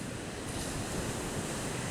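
Pacific Ocean surf at La Barqueta beach, a steady broadband wash of waves with some wind noise on the microphone, no voices.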